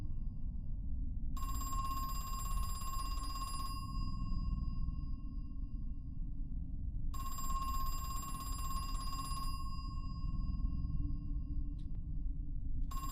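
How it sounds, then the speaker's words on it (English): In Crow Country, a phone rings twice with a trilling electronic bell lasting a couple of seconds each time, separated by a pause, over a steady low ambient drone. "do you guys not like the creepy phone ringing?"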